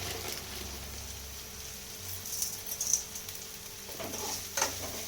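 Fish curry ingredients sautéing with salt in a pan give a soft, steady sizzle, with scattered stirring scrapes and a couple of brief louder clinks near the end.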